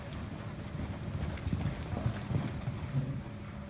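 Horse hooves clip-clop on soft ground during a riding lesson, a steady rhythmic drumming of footfalls at moderate distance, fairly faint and without speech over them.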